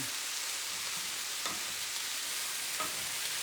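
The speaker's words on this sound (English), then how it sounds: "I'm just going to stir that in." Chopped cauliflower, cut small for a rice pilaf, is stirred into a frying pan. A steady, dense sizzle runs throughout, and two soft utensil scrapes come through near the middle and near the end, with no talking.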